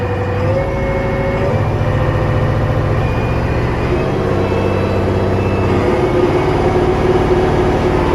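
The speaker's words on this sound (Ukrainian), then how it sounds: "обороти двигуна" A vehicle engine revving inside the cab, with a loud, steady, low mechanical drone whose pitch shifts up and down partway through, no talk over it.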